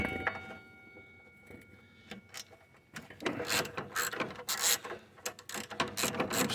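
Ratchet wrench working on 15 mm bolts of a John Deere LA115 riding mower, quiet clicking at first, then a rapid run of loud ratcheting clicks and metallic rattles, close up.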